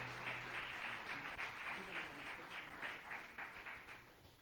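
A church congregation applauding during a Spanish-language sermon, a steady wash of clapping that fills the room at moderate volume and slowly fades toward the end.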